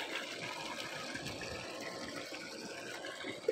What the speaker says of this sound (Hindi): तो यहाँ तो पानी की साउंड ही बड़ी मज़े की है, सुने आप।